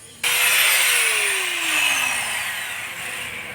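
An angle grinder cuts into a rust-seized nut and bolt on a motorcycle, starting abruptly with a loud, harsh, continuous whine that slowly drops in pitch as the disc bites, close and steady.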